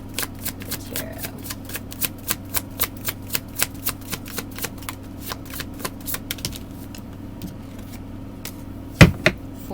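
Tarot cards are shuffled in a steady run of crisp, evenly spaced riffling flicks under a low constant hum, fairly close. The flicks thin out toward the end, and a single louder knock or tap lands near the close.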